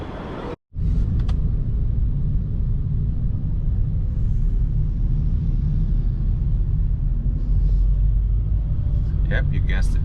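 Steady road traffic in Jakarta: a continuous low rumble of cars and engines close by, with a brief dropout near the start and faint higher clatter toward the end.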